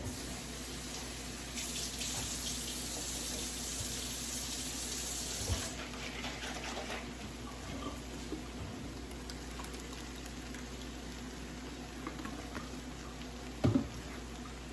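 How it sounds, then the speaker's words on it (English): Steady running tap water, a continuous close hiss of water flowing into a container, with a couple of brief clunks near the end. "I'm gonna put some water in here and make sure I get this all out"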